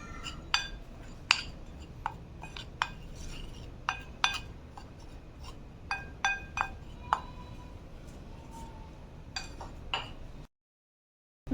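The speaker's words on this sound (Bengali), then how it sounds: "এগুলো এখন একসাথে মিক্স করে নিতে হবে" Bread crumbs and flour are stirred together in a bowl, with a steady run of sharp clinks as the utensil strikes the dish, irregularly spaced over a soft scraping bed, close and clear, then silence.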